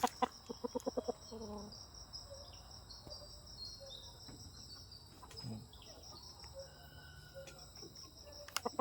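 Chickens and a rooster cluck at a moderate distance amid a constant high cricket and insect drone, with short clucking bursts at the start and end.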